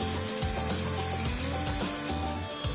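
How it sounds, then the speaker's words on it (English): Marinated vegetarian prawn sautéing in two tablespoons of oil in a pan, a dense continuous sizzle with clattering stirring strokes, close and loud, without talk. "mix the marinated special Babylona vegetarian prawn and saute it"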